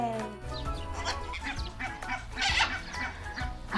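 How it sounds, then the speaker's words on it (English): Ducks and swans calling together at a pond, with a busy mix of honks, quacks and clucking bird voices close by over steady low background sound. "look at all these beautiful birds. You can see ducks and swans"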